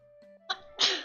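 One sharp sneeze bursts out close by at the end, after a brief quiet intake of breath and a faint squeak.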